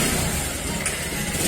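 Suzuki Gixxer motorbike engine idling steadily and fairly loud, a continuous low rumble with a slight flutter, no talk.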